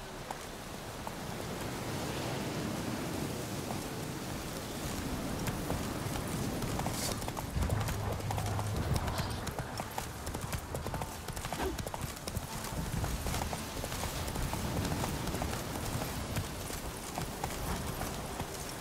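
Horse hooves clip-clopping at a steady gallop in The Witcher 3, close and continuous over rain and ambient noise, with a brief whinny partway through.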